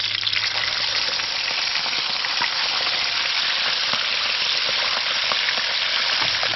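Calamari flaps fry in a hot pan with a loud, steady sizzle and crackle that runs unbroken throughout, close up and with no voices.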